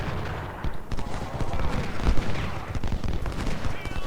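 Cannon and musket fire in the Civil War strategy game Ultimate General: Civil War, with dense overlapping volleys and booming artillery shots rolling steadily throughout, loud and continuous without speech.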